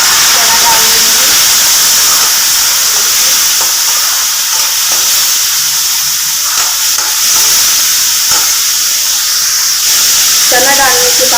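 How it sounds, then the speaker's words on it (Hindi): Chickpeas tumbling into lightly browned onions frying in a pan for village-style chana masala, with a steady loud sizzle and hiss running throughout and brief stirring scrapes. "प्याज मेरा देखिए थोड़ा भून चुका है। तो मैं इसमें चना डाल दूँगी।"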